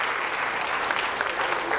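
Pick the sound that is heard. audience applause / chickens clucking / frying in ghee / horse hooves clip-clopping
audience applause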